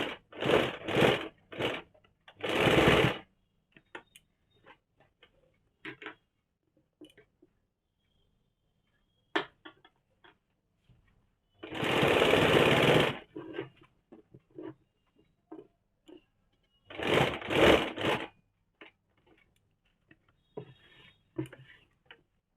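Sewing machine running seams on a kaftan-style nightie, heard as three loud, close bursts of steady whirring stitching separated by quieter handling clicks and taps.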